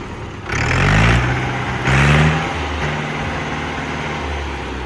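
A Mahindra 475 tractor in good condition runs its engine, revving up twice to a louder roar before settling back to a steady, close idle.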